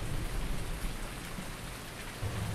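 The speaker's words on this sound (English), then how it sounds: "There's the rain for you." Steady rain falls in Farming Simulator 19, a dense, even hiss that stays loud and unbroken throughout with low rumbling underneath.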